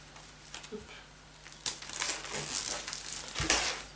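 Close crinkling and crackling of plastic wrap being pulled off a CD package during an unboxing, with scattered sharper tears and crunches over a quiet background, no talking.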